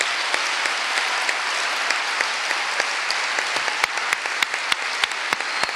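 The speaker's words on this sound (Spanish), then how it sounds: "gracias, un aplauso para Ginés" A crowd gives steady, continuous applause at a public speech, with sharp individual claps standing out over the dense clapping throughout.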